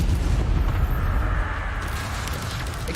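Incendio fire spell cast in Hogwarts Legacy, a deep booming burst of flame with a rumbling roar that holds steady and loud for about three seconds, no talking.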